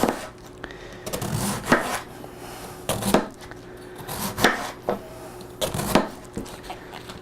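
Cabbage sliced with a knife on a board for sauerkraut, a run of crisp, close cutting strokes landing in an uneven rhythm with short pauses between them.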